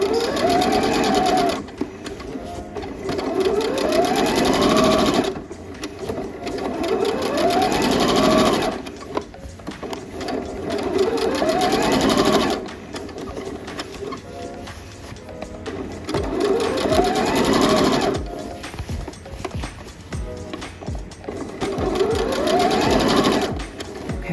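A sewing machine stitches a denim dress, running in several long bursts with short pauses between them, steady and close, then a brief back stitch.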